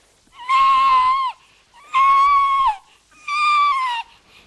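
A stage performer imitates a goat bleating: three drawn-out, wavering, nasal bleats with even gaps between them, loud and close with no other sound around them.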